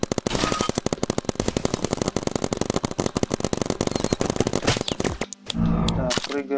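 Rapid paintball gun fire in the video game Big Paintball keeps up as a dense, loud stream of clicks for about five seconds, then stops, with a voice talking over it.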